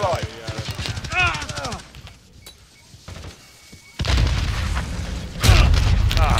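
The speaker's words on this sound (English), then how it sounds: "Ah, damn it, grenade got me." Game combat in Call of Duty: Modern Warfare, with a voice calling over rapid gunfire, then a heavy grenade explosion booming in and rumbling on, followed by a second loud blast near the end.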